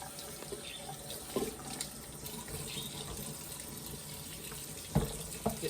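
Tap water runs steadily into a sink while canning jars are washed in a soapy vinegar rinse, a continuous close splash with a few brief clinks and knocks near the end.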